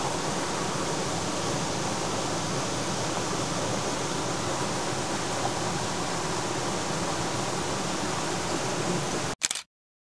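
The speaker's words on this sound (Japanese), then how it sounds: "釜の滝なんですけども、" Kama waterfall in the Okutama gorge running at high water, a loud steady roar of falling water that holds constant throughout, then cuts off abruptly just before the end.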